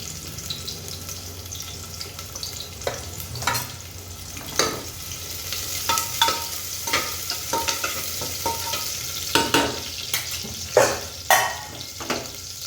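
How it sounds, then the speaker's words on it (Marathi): Onion and garlic fry in hot oil in a home kitchen with a steady sizzle, punctuated by repeated sharp stirring clacks and scrapes of a utensil against the pan. No one speaks. "तर मग मी तेलामध्ये सर्वात आधी टाकणार आहे कांदा आणि लसण"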